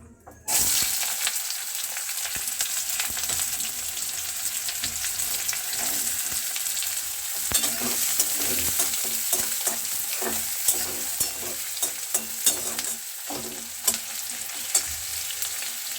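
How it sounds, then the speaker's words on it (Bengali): Chopped onions go into hot oil already crackling with bay leaf and dried red chili, giving a loud, continuous sizzle with repeated spatula stirring scrapes and clacks against the pan. "এবার আমি এটার মধ্যে দেব কুচানো পেঁয়াজগুলো।"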